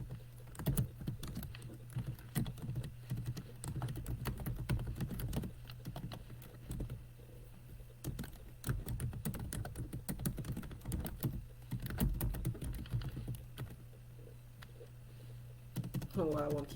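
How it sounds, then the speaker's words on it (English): Keys clatter on a computer keyboard in quick, uneven bursts with short pauses, close and fairly clear, while a person talks intermittently over the typing. "Let me type that in."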